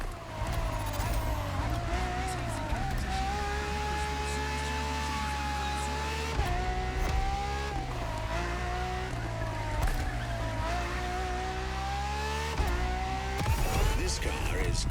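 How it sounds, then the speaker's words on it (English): A Ferrari FXXK supercar laps a track in the racing game The Crew Motorfest. Its loud engine screams and climbs through repeated upshifts and downshifts, with some tire squeal, and a voice talks over it at times. "For this second lap, you'll be driving the FXXK"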